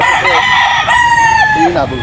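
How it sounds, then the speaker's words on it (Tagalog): A rooster crows loudly and close by, one long drawn-out call with a rising then falling tone, from a banded gamefowl. "Puro banded po yung mga manok ni Boss Tony."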